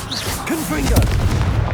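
Confringo blasting-spell explosions in Hogwarts Legacy boom and rumble in a dense, continuous barrage. A voice calls out over the blasts, and game effects layer on top.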